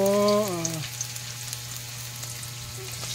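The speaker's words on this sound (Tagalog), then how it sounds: "maggisa ng mga lamas dyan" Spices hit a hot pan and sauté with a steady crackling sizzle that runs on after a falling tonal swoop at the start, with scattered pops and light stirring clatter close by.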